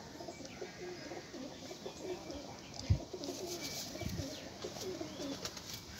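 A pair of golden pigeons cooing softly, low repeated coos in a quiet setting with faint chirps and light rustling in the background.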